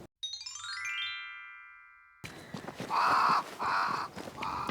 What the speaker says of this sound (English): Shut up, you mocking crows.